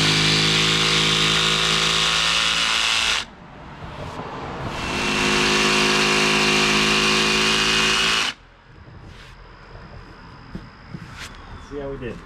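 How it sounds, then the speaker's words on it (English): A power saw cuts notches into a decking board during a hidden-fastener deck install, two loud sustained cutting bursts with a short pause between, then quieter shop ambience. "do the same on the other side, and cut out those notches."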